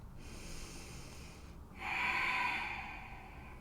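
Slow, deep breaths during a yoga forward fold, a soft airy exhale followed by a louder, fuller breath that swells and fades, close and quiet with no talking.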